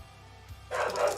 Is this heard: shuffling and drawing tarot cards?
no